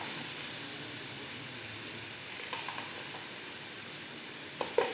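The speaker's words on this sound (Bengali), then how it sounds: "এবারে মশলাটিকে ভালো করে কষিয়ে নেব বন্ধুরা।" Spice paste (masala) fries steadily in a pan, a soft, even sizzle that holds throughout with a couple of faint clinks near the end.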